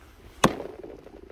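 Snow-covered lake ice after a snowstorm gives one sharp crack, a short, faint snap followed by a brief rumbling settle, heard from about fifteen feet off the shore in Minnesota.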